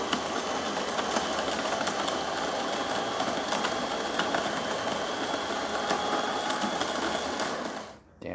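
A Delonghi Magnifica S espresso machine with a newly fitted water pump hums and buzzes loudly and steadily while brewing a shot, then cuts off abruptly near the end.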